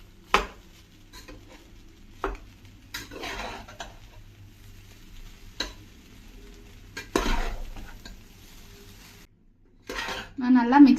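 Chicken fried rice made with basmati rice is stirred and tossed in a pan: irregular scrapes and metallic clinks of a spatula, with soft sizzling between strokes and a few quiet moments.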